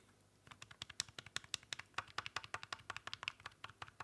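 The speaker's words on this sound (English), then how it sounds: "And the D-pad on this one." Rapid, fairly even run of crisp plastic clicks from the D-pad of a Game Boy Color Pikachu edition being pressed repeatedly, close up and alone, with no talking.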